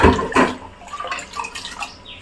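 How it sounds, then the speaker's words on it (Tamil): Seeraga samba rice being washed by hand in water for chicken biryani, with irregular close sloshes and splashes, louder at the start and then softer rubbing swishes. "தண்ணி ஊற்றி எவ்வளோ கழுவணுமோ நீங்கள் இப்போவே தேய்ச்சி கழுவிடுங்க"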